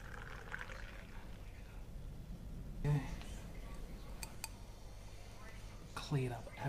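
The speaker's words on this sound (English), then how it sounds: "let's pour into glass" Homebrewed beer, a fake Brett melon session IPA cleared with gelatin, is poured into a glass, giving a faint, steady liquid pour with a couple of soft clinks.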